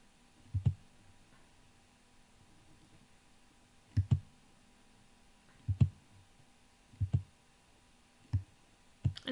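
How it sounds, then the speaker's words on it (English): Isolated soft clicks come in quick pairs every second or two, like individual keys pressed slowly on a keyboard in a quiet room. "let's see together what happens when I type"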